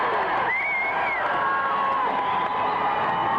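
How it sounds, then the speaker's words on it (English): A crowd cheers and applauds for a singing contestant, a steady wash of noise with whoops and a high sustained shout riding on top throughout. "Let's have a round of applause for contestant number 1, Janet."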